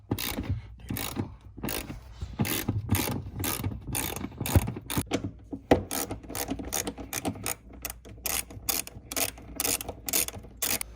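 A hand ratchet clicks in quick rhythmic bursts, close and clear, while tightening the seat bolts during an NRG Prisma Ultra fixed bucket seat install, with brief pauses between strokes and no talk.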